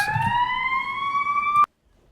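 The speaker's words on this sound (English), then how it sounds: "there are sirens in the back because I live in Chirac" An emergency vehicle siren outside gives one sustained, slowly rising wail with strong harmonics for about a second and a half, then cuts off abruptly into near silence.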